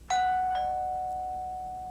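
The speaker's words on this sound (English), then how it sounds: "If you hear the chime ring, then you know that it's the doorbell button that's bad." A doorbell chime rings when the bare wires of a faulty doorbell button are touched together, a loud, close single tone with a quick second strike, sustaining and slowly fading away.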